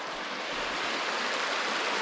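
A creek rushes steadily close by, its broad hiss of flowing water continuous and loud without pauses, and no one talks over it.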